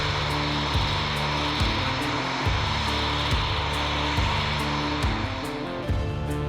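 RAF Typhoon jets arrive at Dhofar Air Base in Oman during exercise Magic Carpet 21, giving a continuous loud engine roar with regular rhythmic pulsing throughout and no speech.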